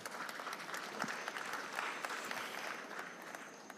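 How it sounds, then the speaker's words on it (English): A conference audience applauds panelists with steady, dense clapping from many hands that holds at an even level throughout, heard fairly quietly. "So if you could have a round of applause for my panelists."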